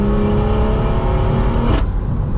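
Turbocharged B58 engine in a BMW F22 M240i revving hard with a loud droning exhaust note, then cutting off abruptly near the end with a brief burst of crackle as the revs drop.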